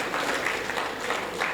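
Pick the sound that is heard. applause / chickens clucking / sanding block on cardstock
applause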